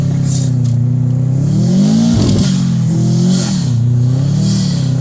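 A Subaru performance car accelerating hard, its engine note loud and close, rising and dipping through revs with a brief rough burst midway, heard from inside the car.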